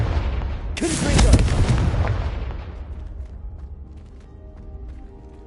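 A Confringo spell blast in a Harry Potter video game: a sudden loud booming explosion that swells and rumbles before slowly fading into a faint tonal tail.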